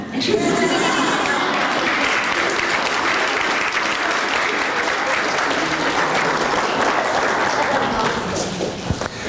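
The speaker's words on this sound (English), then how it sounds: "Would all you kids like to just stand up for one more round of applause?" Sustained applause from an audience after a poetry reading at a poetry night, loud and dense clapping filling the room continuously before tapering slightly at the end.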